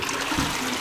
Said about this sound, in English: So what I do, I'm going to flush it.